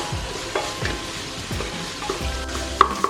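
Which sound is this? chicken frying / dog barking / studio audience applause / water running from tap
chicken frying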